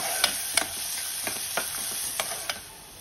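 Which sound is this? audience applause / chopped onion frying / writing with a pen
chopped onion frying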